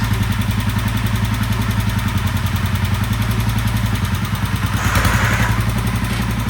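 The engine of a 1967 Sears Super 12 runs with a rough, steady clattering putter close by, holding a loud idle throughout with a slight surge near the end.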